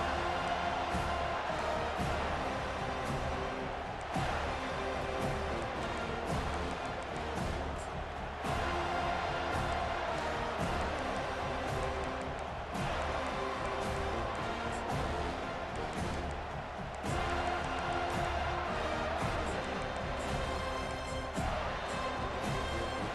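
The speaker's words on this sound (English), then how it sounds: "This crowd bringing an ear-splitting welcome to their visitors" A stadium crowd roars continuously in EA Sports College Football 25, loud dense cheering with swells of noise throughout a football game broadcast.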